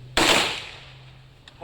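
A single sharp rifle report from a military funeral volley for a fallen soldier, loud and close, ringing out and decaying over about a second, with a faint voice at the end.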